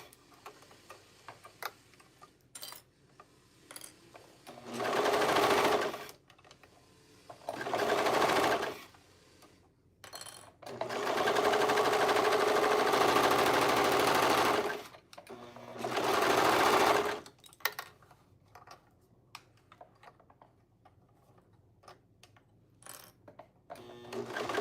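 Sewing machine stitching fabric in several runs of steady rapid whirring, each lasting a few seconds, separated by quiet pauses with light clicks and handling noises.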